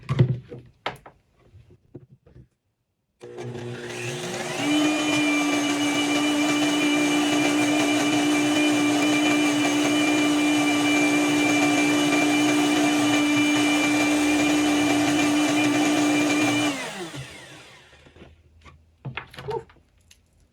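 A blender grinds grain into flour in one loud, steady whir that runs about thirteen seconds with a sharp start and stop. Faint handling knocks come before and after the grinding.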